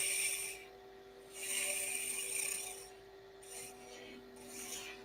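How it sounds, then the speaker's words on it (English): Spindle roughing gouge rounding over a wooden rolling pin spinning on a lathe, giving repeated rasping, scraping passes that swell and fade over a steady motor hum, close and fairly loud, with no talk. "I'm going to take my spindle roughing gouge again and just round everything over."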